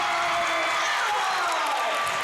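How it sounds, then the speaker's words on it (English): A home crowd at a Hedgesville high school boys basketball game against Martinsburg roars after a score, a loud sustained wash of cheering and clapping filling the gym without pause. "Seems like every time Hedgesville scores, the crowd just gets louder and louder"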